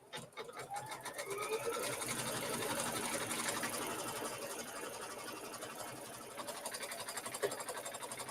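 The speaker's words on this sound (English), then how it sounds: "Now I'm going to stitch this out in black so that you can see it more easily." A sewing machine stitches quilt pieces with black thread, a steady rapid mechanical whirring and clatter running close and continuous, with its pace easing slightly toward the end.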